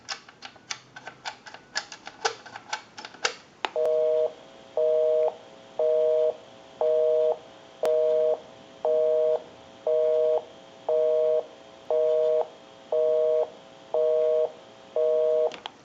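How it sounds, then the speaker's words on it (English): A Western Electric 2554 wall telephone gives a series of clicks while dialing, then a loud, steady busy signal of evenly spaced beeps, about a dozen, with no speech. "We'll call my number and it'll be busy."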